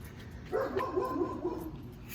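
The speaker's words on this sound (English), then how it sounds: "Got my dogs out here" Dogs outdoors let out a short burst of several barks and yips, fairly faint and somewhat distant, over quiet background hiss.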